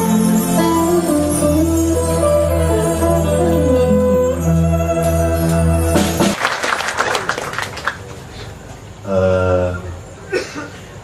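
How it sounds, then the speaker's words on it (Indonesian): Applause and chuckles rise from a gathering at a Maiyah religious talk, following sustained musical or tonal sound; clapping bursts appear mid-clip, with voices and laughter mixed in. "tepuk tangan untuk Mbak Novia"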